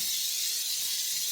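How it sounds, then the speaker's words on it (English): A Bissell Steam Shot hard-surface steam cleaner blowing steam inside a microwave, a steady airy hiss held at even strength for the whole span with no voices. "gonna use the steamer to see if we can break down a lot of the content, stains, splatters, all that good stuff here in the microwave"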